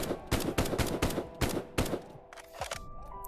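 FAL rifle firing in Contractors VR, about eight loud, evenly spaced shots in a steady rhythm, followed by a pause and a couple of quieter mechanical clicks.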